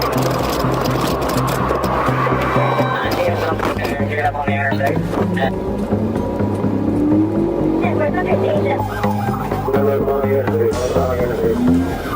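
Chevrolet Tahoe speeding northbound on Interstate 75 during a police chase, engine revving with rising pitch sweeps and road roar, loud and continuous, with a voice talking over it.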